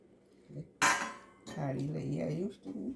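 A steel plate or thali is set down with a sharp, single clinking clatter while a cake is being assembled in a home kitchen. A voice talks before and after it.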